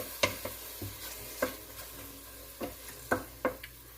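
Chicken being stirred and sautéed in a pan for chicken cacciatore: quiet, irregular scraping strokes of a utensil, about seven distinct clacks over a soft sizzle, close and alone.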